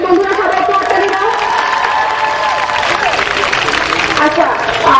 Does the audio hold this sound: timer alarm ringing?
no